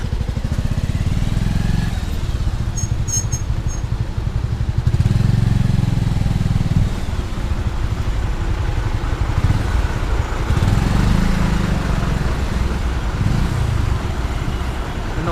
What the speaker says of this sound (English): We are at Godbandar and as usual there's traffic over here.